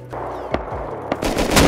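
Gunfire in the survival game Rust, a few sharp shots cracking out in quick succession over a short stretch, loud and close.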